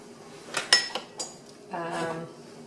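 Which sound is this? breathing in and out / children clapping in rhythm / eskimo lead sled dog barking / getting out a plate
getting out a plate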